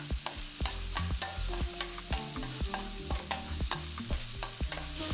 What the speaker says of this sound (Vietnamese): Sau đó thì mình cho cà rốt vào xào trước khoảng hơn 30 giây